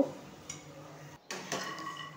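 A utensil scrapes and clinks against a cooking pot as pointed gourd is stirred with sugar, a few distinct metallic knocks with a brief pause midway, close and moderately quiet.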